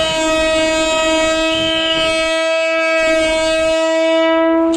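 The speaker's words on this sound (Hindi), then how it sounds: "नेपाल रेलवे आबि गेल जनकपुर में।" A Nepal Railway train pulls into Janakpur station, its horn blaring in one long, loud, sustained harmonic blast that holds steady throughout with no talk over it.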